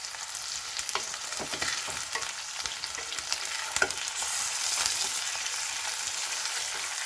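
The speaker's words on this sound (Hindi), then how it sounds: "ये चिकन को हम इसमें मिला देंगे और इसको अच्छे से फ्राई कर लेते हैं मिक्स करके।" Chicken and onions fry in a pan with a dense, continuous sizzle, while scattered scraping strokes of stirring come through up close and no one speaks.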